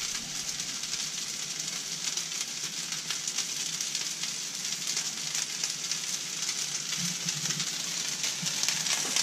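Cooked rice fries in extra oil in a hot pan, producing a loud, steady, dense sizzle that holds throughout with no speech.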